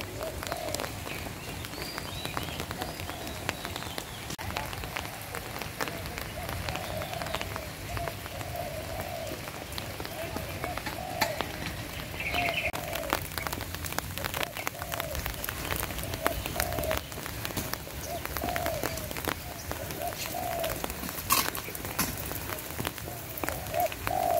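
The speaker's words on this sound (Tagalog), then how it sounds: "Umuulan." Rain patters steadily on surfaces at a Japanese cemetery park for the whole stretch, dense and close, with faint background sounds mixed in and no clear talk.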